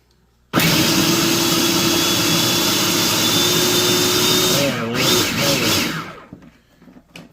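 A food processor chopping jalapeño peppers and pineapple whirs loudly and steadily for several seconds, its pitch dipping briefly under load near the end before it winds down and stops.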